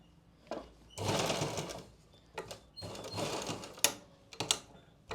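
A sewing machine stitches elastic into palazzo pants in several short bursts of rapid mechanical chatter, separated by brief pauses and small clicks, close and clear.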